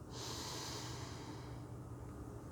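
A deep, slow inhale through the nose during a guided meditation, a long breathy hiss lasting over two seconds that dominates a quiet room with no talking.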